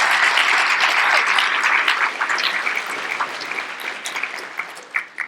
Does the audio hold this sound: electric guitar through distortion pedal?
no